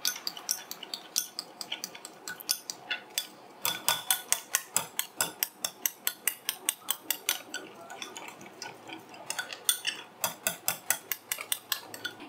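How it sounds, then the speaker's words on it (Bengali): A spoon whisks curd with turmeric and chili powder in a bowl, a fast run of sharp rhythmic clinks and scrapes, close and steady, with no talking. "এবার টক দই, হলুদ গুঁড়ো আর লাল লঙ্কার গুঁড়োটা একটু ভালো করে এইভাবে চামচ দিয়ে ফেটিয়ে নিচ্ছি।"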